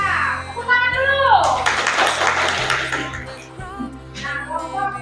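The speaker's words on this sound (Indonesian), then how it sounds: "Tepuk tangan dulu." Several people clap at a school class prize giving while children and an adult talk over it, a dense mid-level patter under steady voices.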